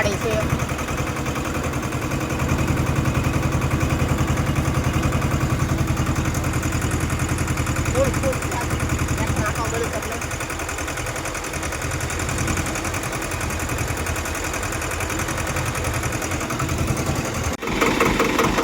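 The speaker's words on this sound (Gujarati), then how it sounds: "ટ્રેક્ટરમાં ઉતરી જાય છે અને જવાનું છે એને દવા છાંટવા" A tractor engine idles before heading out to spray pesticide, a steady low rumbling chug running continuously and close by. A voice talks over it.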